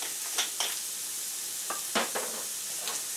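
Ground coriander sizzles in a frying pan under a soft, steady hiss, with several short crackling bursts and light clinks close by and no one speaking.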